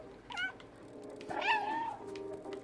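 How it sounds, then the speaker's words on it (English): A cat meows repeatedly in the video game Stray, with a short call followed by a longer, louder rising-and-falling meow and a faint trailing one, standing out clearly against quiet game ambience. "Like meowing enough times,"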